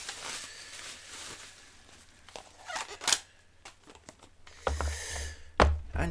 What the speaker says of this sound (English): let's get rid of some of this paper right here